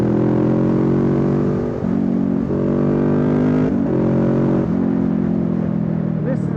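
A 2019 Kawasaki Ninja 650 with a 650cc parallel twin pulls hard on the road, its engine note climbing in pitch through several gears with brief dips at each shift, loud and close.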